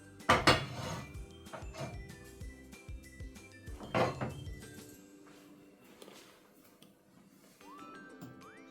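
A metal cooking pan is pulled out and handled in a home kitchen, with a few loud clanks and scrapes up front, another bang around the middle, then quieter rattles and clinks fading toward the end.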